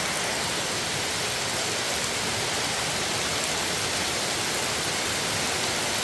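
Heavy rain on the Appalachian Trail, a steady dense hiss of downpour on surrounding foliage and ground, constant and enveloping with no voices.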